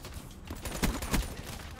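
The Razorback gun fires in Black Ops 3, a loud close burst of rapid automatic shots with a couple of heavier thumps, filling the short moment.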